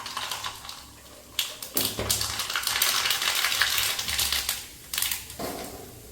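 Mustard seeds splutter and pop in hot coconut oil in an iron pan, a close, busy crackle of sharp pops and ticks that comes in irregular bursts, with no voices.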